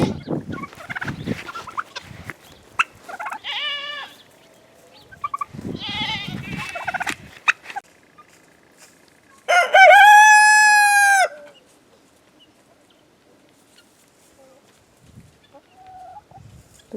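Chickens in a garden cluck intermittently at close range, and a rooster crows loudly once partway through, with quiet stretches between calls.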